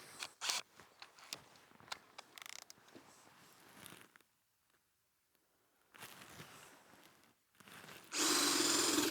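A power drill bores a hole in wood to make the entrance of a bird nesting box, its whine rising and falling in uneven bursts with brief pauses, ending in a loud sustained grind.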